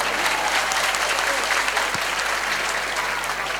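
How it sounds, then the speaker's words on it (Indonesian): Steady applause from a crowd, dense clapping filling the whole stretch at an even, fairly loud level. "Tepuk tangan untuk kita semua."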